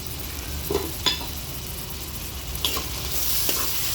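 Sliced onions, a green chili and a sprig of curry leaves sizzle in oil for hotel-style puri kurma, a steady close fry broken by a few scraping stirs of a spoon.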